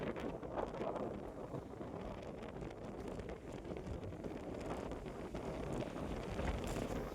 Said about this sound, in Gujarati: ખાલી પવન આવે છે